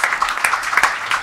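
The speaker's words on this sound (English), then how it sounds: "Applause." A conference audience applauds at the end of a talk about privacy and personalized learning. The clapping is moderate, crowded and fairly close, with scattered sharp claps standing out.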